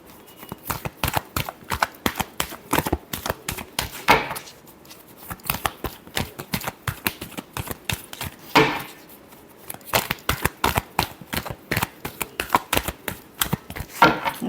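Tarot cards are shuffled by hand in a rapid series of crisp riffling slaps and clicks, close and fairly loud, arriving in irregular bursts with brief pauses between them.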